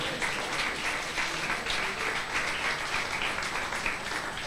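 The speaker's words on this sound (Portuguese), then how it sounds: "Você pode aplaudir o Senhor, irmão?" A church congregation applauds steadily, a continuous spread of clapping at moderate level with faint voices mixed into the crowd.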